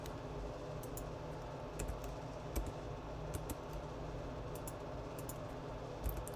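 A computer keyboard gives off soft, quick clusters of key clicks over a low steady hum, faint and close, with no speech.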